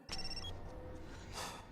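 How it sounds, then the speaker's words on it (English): A mobile phone ringtone in a Torchwood episode chirps a short electronic ringing pattern, clear and fairly loud over the show's background sound. "You don't think I'd choose that ringtone?"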